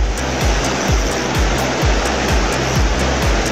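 A river waterfall roars steadily up close during trout fishing, a loud continuous rush of falling water with a faint rhythmic thumping beneath it.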